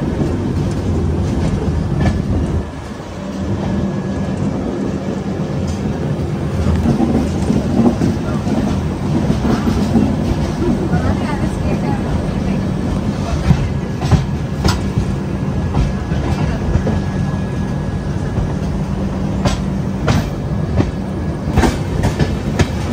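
A passenger train rolls steadily along the rails with continuous rumble and rhythmic clickety-clack of the wheels, loud and close from on board, with occasional voices underneath.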